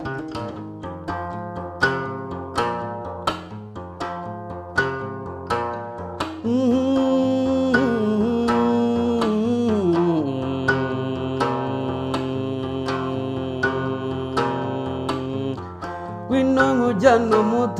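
A Rwandan inanga, a plucked trough zither, plays a steady run of bright, resonant plucked strings. After the opening passage, a sustained droning layer of tones swells beneath the plucking and holds, loud and close throughout.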